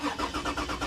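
A car engine cranks over with a rhythmic starter whirr, pulsing about five times in one second, close and steady, with no voices.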